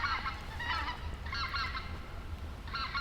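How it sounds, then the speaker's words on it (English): Geese honking at a Mississippi Delta hunting spot, several bursts of nasal honks spaced a second or so apart, moderately distant and faint over a low background rumble. "I hear some geese."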